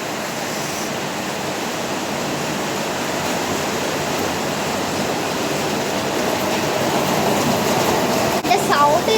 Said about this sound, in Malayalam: നല്ല മഴയാണ് കേട്ടോ, വെള്ളമൊക്കെ തെറിക്കുന്നുണ്ട്.